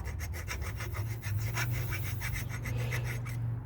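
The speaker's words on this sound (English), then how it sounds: "Let's try and clean out some of these holes here a little bit." Metal part from a 1965 Ford Thunderbird being cleaned out at its holes with a tool, a steady close rasping, scraping rub repeated in quick strokes without pause and no talking.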